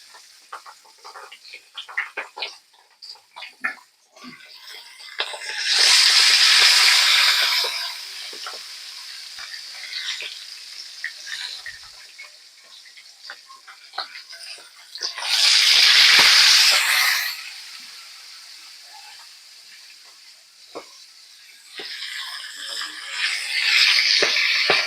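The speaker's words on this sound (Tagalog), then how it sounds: "mainit na ang ating kawali guys. So, iprito na natin to guys." Red snapper (mayamaya) fish belly frying in a hot pan, heard as bursts of loud hissing sizzle that swell and fade several times between quieter crackling and scraping.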